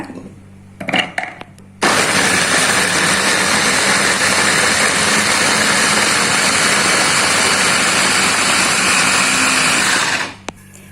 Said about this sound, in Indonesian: Ini akan saya haluskan pakai chopper.